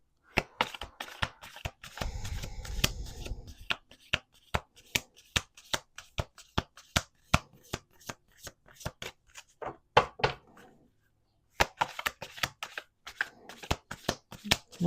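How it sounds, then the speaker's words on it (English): Rapid riffle shuffles of a deck of cards, crisp repeated clicking bursts with brief pauses between, close and clear. "Let's do 2 more shuffles."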